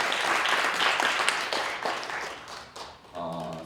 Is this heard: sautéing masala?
no